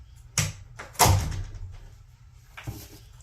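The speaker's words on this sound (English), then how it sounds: "Let me shut this door." A door is pushed shut indoors: a light knock, then a firmer thud with a short rattle, and a softer bump near the end, close by with no talking.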